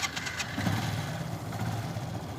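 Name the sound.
vehicle engine starting before driving-licence practice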